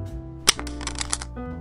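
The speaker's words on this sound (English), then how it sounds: "Let's shuffle again" Playing cards being shuffled up close, with a sharp riffle burst followed by a run of light flutters and soft ticks, fairly quiet and without talk.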